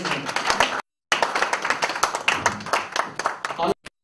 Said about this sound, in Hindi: तो मैं चाहता हूँ लोग ये ताली बजाइए जो हमारे सपोर्ट में है।